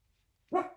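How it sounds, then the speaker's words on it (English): A single sharp bark from a dog reacting to another dog outside a window, sounding indoors at moderate distance after a moment of near silence. "that is my dog, Riley."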